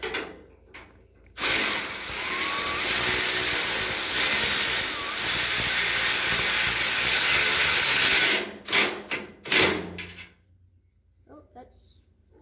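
A ratchet clicks steadily and rapidly while tightening bolts on a go-kart cage, close and loud for several seconds before stopping, followed by a few scattered clanks and brief talk.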